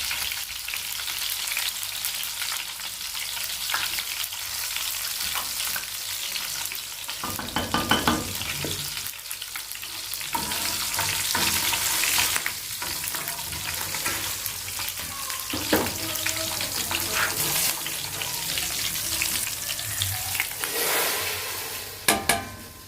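Dal frying in a pan for a dhaba-style daal chawal makes a continuous sizzle with bursts of stirring and scraping, close and fairly loud, without talk.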